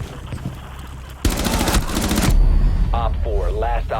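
Rapid automatic gunfire from a ranked online shooter match, loud bursts of shots, with game sound effects and chatter following.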